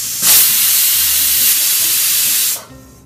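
Pressure cooker on medium flame cooking chickpeas for chana masala lets out one loud, steady steam whistle, a sustained hiss that starts abruptly and holds for over two seconds before cutting off, with no talking.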